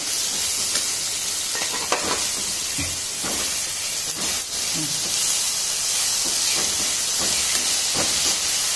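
Potato pieces sizzling in a pan with green chilies, cooked for sabudana usal: a steady, loud hiss of frying runs the whole time, with scattered small crackles and stirring clatter and no talk.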